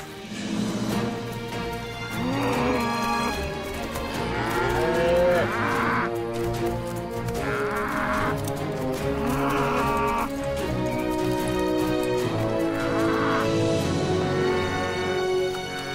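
Several free-range cows moo loudly and repeatedly in long, drawn-out calls, one after another with little pause, close by and clear with no talking over them.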